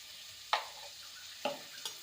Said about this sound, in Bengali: আলুটাকে ভেজে নেব লাল করে